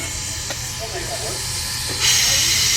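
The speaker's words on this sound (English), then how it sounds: "we have to position this locomotive perfectly on our turntable" A steam locomotive sits on a railroad turntable at a railroad museum, releasing a steady loud hiss of steam that swells stronger near the end, with faint clanks in the background.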